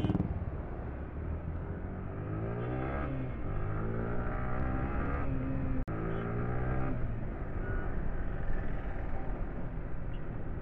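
Car engines hum steadily in heavy traffic on a hill road to Manali, with one vehicle's engine rising and falling in pitch as it revs, loud and close throughout.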